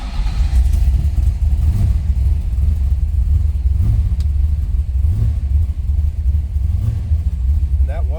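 A 1972 Chevrolet Nova V8 with open cutouts rumbles loudly and steadily at close range after a cold start, a deep throbbing idle that never lets up, with a voice speaking over it.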